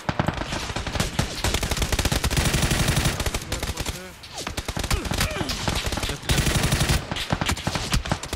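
Rapid automatic gunfire from a shooter video game such as PUBG or Valorant crackles in dense, loud bursts, pausing briefly midway before resuming in close, sharp volleys.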